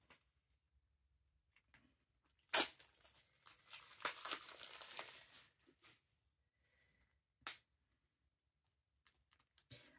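A plastic packet holding resin crystal inclusions is torn open with a sharp rip, followed by a couple of seconds of crinkling plastic and a few isolated rustles, close and quiet, with no talking.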